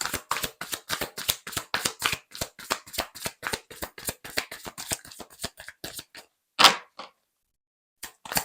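Tarot cards shuffled by hand, a rapid rhythmic series of close, crisp card flicks and slaps, followed by a louder single shuffle burst and then near silence.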